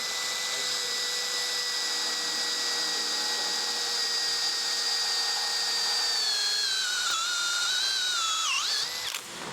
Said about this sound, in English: That'll be with a cordless drill.